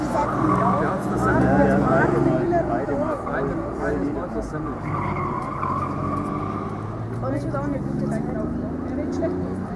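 A Porsche 964 911 is driven hard through a slalom course at a club event, tires squealing in repeated wavering chirps over an engine drone, while people talk throughout.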